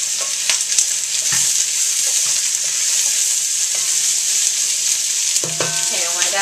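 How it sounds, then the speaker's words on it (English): Two onions browning in olive oil in a hot pan, a loud, dense continuous sizzle close up, with occasional light stirring clicks and scrapes throughout. "I'm going to brown the onions."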